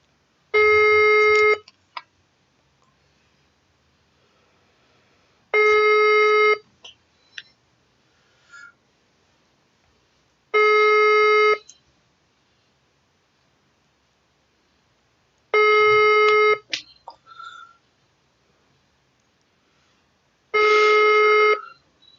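A telephone rings five times at evenly spaced intervals, each ring a loud electronic burst of about a second with quiet gaps between, heard alone without talk.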